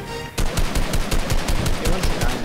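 Rapid bursts of gunfire in Fortnite ring out loud and close, a sharp run of evenly spaced shots following a brief lead-in, with almost no talk over them.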